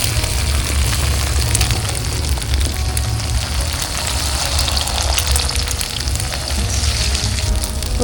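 Eggs frying in a pot give a loud, continuous sizzle and crackle that holds steady from start to finish, close to the listener, with no talking.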